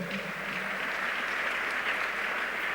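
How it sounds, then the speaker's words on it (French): A church congregation clapping together, a dense steady wash of applause that holds evenly throughout at moderate distance. "Acclamons le Seigneur."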